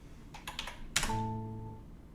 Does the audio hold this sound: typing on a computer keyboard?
yes